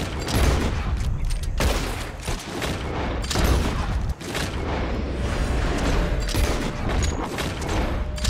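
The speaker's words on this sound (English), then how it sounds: "As soon as you see them, start shooting." Dense gunfire fills a shootout in the video game Red Dead Redemption 2, with overlapping shots and booms firing nearly nonstop, loud and close.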